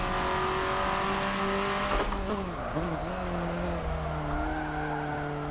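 A race car in a racing video game holds a steady engine drone, then the tyres squeal and skid as the rear steps out, with the engine pitch dipping and climbing again as the throttle comes back on.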